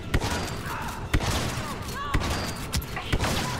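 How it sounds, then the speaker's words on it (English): Shotgun blasts in Star Wars: Battlefront II, several heavy booming shots spaced about a second apart over busy battle noise, loud and close. "Shotgun, nice."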